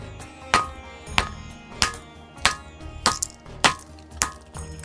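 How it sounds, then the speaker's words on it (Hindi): Stone strikes on the rock of Jhunjhunwa hill in Aurangabad, about eight sharp ringing knocks at a steady, slightly uneven pace, each with a metallic bell-like tone, close and fairly loud with no talk. "अभी हम इस पहाड़ को पीट के देख रहे हैं तो वैसा ही आवाज़ निकल रहा है"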